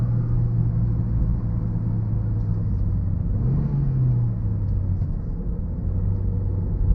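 A 1998 Ford Focus Ghia's 1.6-litre 16-valve, 100 hp four-cylinder Zetec engine drones steadily under a rumbling cabin while driving, swelling briefly in a rev around the middle before settling back; no one speaks.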